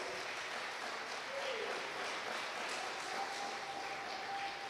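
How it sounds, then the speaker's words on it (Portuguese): A church congregation's applause honoring Jesus at a live IPDA service, a soft, fairly distant wash of clapping that holds steady for several seconds with a faint voice briefly audible over it. "dar uma salva de palmas exaltando o nome de Jesus"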